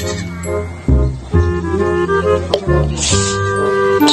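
A goat bleats several times in wavering, nasal calls, fairly close, with some rustling and background noise between cries.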